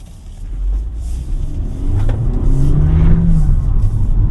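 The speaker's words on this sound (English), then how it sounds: "you can hear the tire screech there" A 2025 Honda HR-V RS e:HEV hybrid pulls hard as tires squeal briefly in a rising whine, loud and close, with the motor droning underneath.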